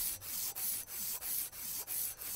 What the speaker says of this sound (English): What I'm doing now is sanding off any residual rust.